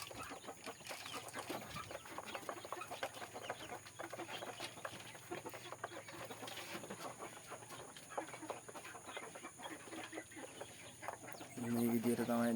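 Small chicks chirp and cheep continuously, with faint clucking mixed in, over a steady background hum. The sound grows louder and busier near the end.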